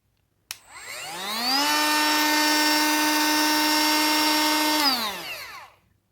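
A Parkside POFA 12 A1 cordless router spins up with a sharp start, holds a steady loud high whine while cutting 18 mm chipboard with external dust extraction attached, then winds down at the end.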